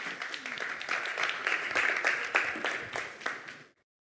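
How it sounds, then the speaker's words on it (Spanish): An audience at a business conference applauds for the speakers, a steady wash of many hands clapping at moderate distance that swells briefly and then cuts off abruptly. "Pues un aplauso para ellos."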